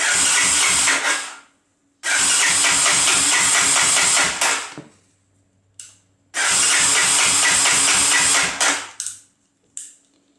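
A three-wheeler engine with the choke pulled cranks and catches in two loud bursts of rapid sputtering revs, each lasting a couple of seconds, with short clicks and pauses between them.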